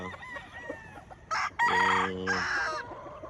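A rooster crows loudly and close by, a short harsh burst followed by a longer drawn-out call, with quieter clucking before it.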